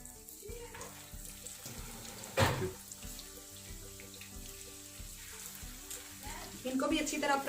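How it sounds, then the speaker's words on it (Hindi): Peshawari chapli kebabs fry in oil, a faint, low sizzle sitting under steady background music, broken by a louder splash-like burst midway and a brighter crackle near the end. "इसी तरह दूसरे चपली कबाब फ्राई करेंगे"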